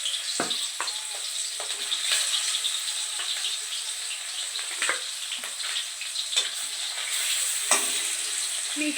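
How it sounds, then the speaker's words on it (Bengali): Pieces of stingray fish frying in hot oil in a wok, a steady close sizzle dotted with sharp crackles and pops for the whole stretch, with no one talking. "এবার এক এক করে মাছ ভেজে নেব।"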